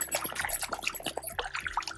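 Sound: dog splashing through puddles on a hiking trail

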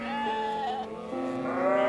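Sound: Tyrolean Steinschaf sheep bleating

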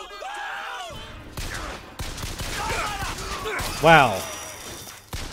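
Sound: gunfire in Bioshock Infinite video game

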